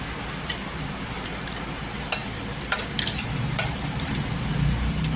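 Thick mashed tomato and cluster bean (gavar) thecha being scraped out of a mixer jar onto a plate with a spoon, giving soft squishy scoops and light clinks of metal on the jar, close and moderately loud over steady background noise.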